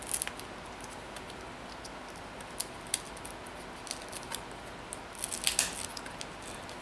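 Taped ribbon cable on a Lenovo G505 laptop display being carefully peeled up: faint crisp tape crackles and small plastic ticks, sparse at first and then a quick cluster near the end, close up and quiet.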